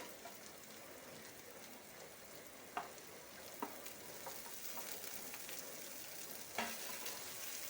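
Green chilies sautéing in a pan for kothu parotta, a faint, even sizzle that runs throughout, with a few soft taps of a spatula standing out.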